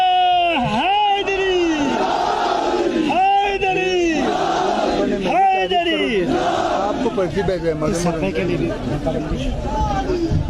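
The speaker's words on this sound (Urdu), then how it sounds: "کوئی ہے نعرہ حیدری لگوا دے، تاکہ آپ کو پتا چلے کہ حیدر کے پیروکاروں کی ذمہ داری پھر کتنی بڑی ہے" A large crowd chanting the slogan Naara-e-Haidari at a political rally in Skardu, loud rhythmic call-and-response shouts repeating several times in unison, close and filling the space.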